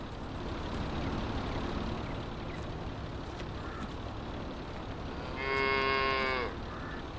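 A cartoonish cow's moo in a farming simulator with a Massey Ferguson tractor running, one loud drawn-out call near the end over a steady engine and ambient rumble.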